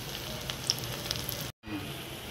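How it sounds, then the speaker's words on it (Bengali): Mutton fat balls fry in hot oil with a steady close sizzle and occasional pops, broken by a brief cut of silence. "এগুলো কিন্তু আমি সব ব্রাউন করে ভেজে নেব"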